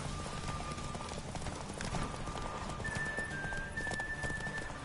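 Roach, Geralt's horse in The Witcher 3, gallops at full speed, a fast continuous hoof rhythm at a steady level with faint rain-like hiss and a thin tonal game sound over it.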